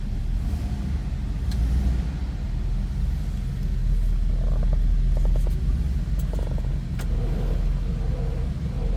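A 1978 Cadillac Eldorado Biarritz idles with a low, smooth, steady engine rumble heard from nearby, continuous and even, with faint light clicks over it.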